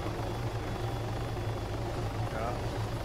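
Helicopter in ARMA 3 flying close by, a loud, steady rotor drone with a pulsing low thrum that fills the whole few seconds without pause.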